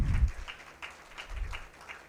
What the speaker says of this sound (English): as they come in, please give them a round of applause